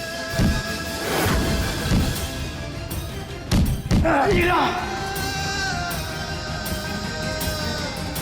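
Police officers beat a man named Prem in a Hindi TV drama interrogation; several heavy thuds and blows land amid shouting voices and a dramatic music bed.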